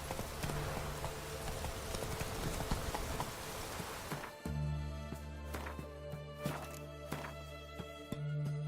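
The horse Roach's hooves clip-clop in the video game Witcher 3, a steady run of hollow thuds that carries through a noisy start and stays regular over a droning game background.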